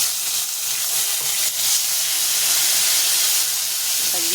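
Nigella seeds and ginger sizzle in hot oil with a steady, close, even frying hiss that holds throughout, with no talking.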